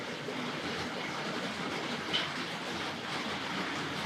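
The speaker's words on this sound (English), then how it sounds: "When they do this train on the inside line with these older wagons, it's getting on for making the same sort of noise as one of those double O trains." Tri-ang R.54 Transcontinental Pacific model locomotive pulling older freight wagons on the inside line, a faint, steady rolling rattle of small wheels on track with no voices.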